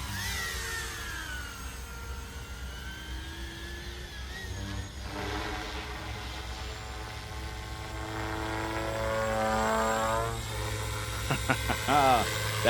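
Direct-drive RC helicopter rotor spins up to head speed 2, a loud rising whine with shifting harmonic tones that climbs steadily, with a brief sharp burst near the end.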